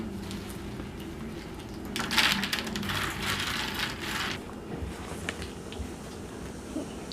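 Raw pumpkin seeds are pushed and scattered across a baking tray, giving faint irregular clicks and rattles with a few louder clustered bursts in the middle, quiet and close with no speech.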